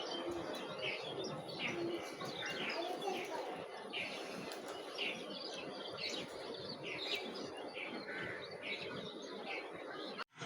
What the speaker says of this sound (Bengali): আর চারো সাইডে পাখির ডাকগুলো শুনতে খুবই ভালো লেগেছে